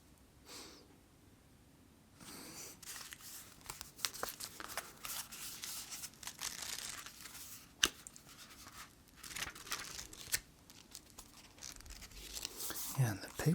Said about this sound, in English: And the paper itself sounds really nice.